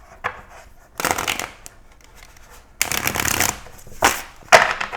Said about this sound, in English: Let's go ahead and get a shuffle in here for you